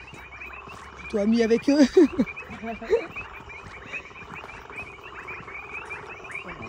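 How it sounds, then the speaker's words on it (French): Frogs croak in a burst of loud, close, rattling calls over a steady chorus of insects and distant frogs at night in Tanzania, while a person speaks briefly. "Grenouille."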